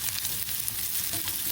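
Garlic, grated ginger and onion fry in hot oil in a pot while being stirred for a shrimp curry sauce: a close, steady, dense sizzle with no pauses and no talking.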